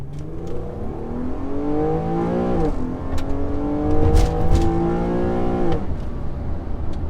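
A 2007 Infiniti G35 Sport's engine drones, then blips sharply upward in pitch with each rev-matched downshift, the revs rising and falling several times, close and loud.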